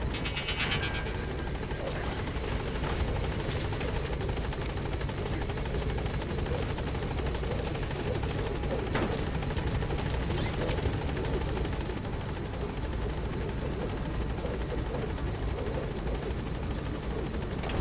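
Pequod, the support helicopter in Metal Gear Solid V, holds steady over a landing zone with a continuous loud rotor roar and engine whine that stays constant throughout, with no speech.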